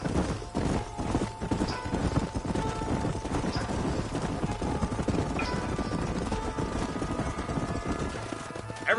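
Horse hooves galloping in the Western video game Red Dead Redemption, a dense continuous drumming of hoofbeats at moderate volume with a faint steady drone beneath.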